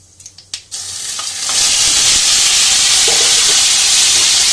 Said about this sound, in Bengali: মশলাটা একটু লাল করে নিয়ে এবার আমগুলো ছেড়ে দাও